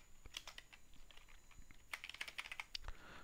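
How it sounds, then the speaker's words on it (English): Typing on a computer keyboard, with a quick, uneven run of soft key clicks close by that grows slightly busier toward the end, with no talking. "As I go on typing, this number will be reflected on the left side label."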